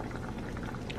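Thickened sauce bubbling at a boil in a pot, a steady close burble of popping bubbles with small wet plops throughout.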